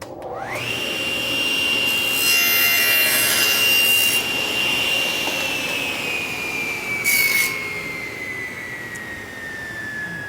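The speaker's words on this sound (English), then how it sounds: "I've got my miter gauge set for 45 degrees, and I want to make one cut right through my auxiliary fence." A table saw blade spins up and cuts through a wooden auxiliary fence at 45 degrees, a loud, close, sustained whine with a rasping bite that tapers as the blade winds down.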